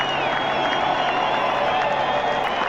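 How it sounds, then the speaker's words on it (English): Baseball stadium crowd in a video game roars and cheers as the fans rise, a dense continuous wash of cheering and whooping that stays steady and loud throughout. "Crowd on their feet."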